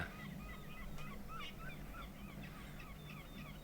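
Faint, distant honking calls of a flock of birds passing overhead in the ambience of the haunted-town game Foolish Mortals, repeated chattering honks over a low steady background hum, with no voices.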